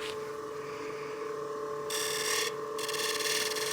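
A wood-turning gouge cuts on a spinning lathe while shaping a cake stand, giving a continuous rasping hiss that swells louder in two close, steady stretches.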